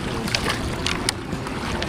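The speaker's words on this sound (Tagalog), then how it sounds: "Magsagwan muna tayo para makapunta dun sa gitna." Water splashing and dripping in soft, irregular strokes as a small boat is paddled on calm water under a bridge, with a steady outdoor hiss behind it.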